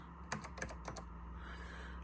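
Typing on a NeXT keyboard with Alps click switches, a handful of crisp, close key clicks in a brief uneven burst over a low steady hum.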